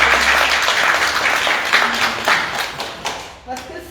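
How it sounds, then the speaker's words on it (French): An audience claps at a community meeting supporting local municipalities, with loud, close applause that starts full and gradually thins out toward the end, with some talk mixed in. "on peut applaudir pour lui alors"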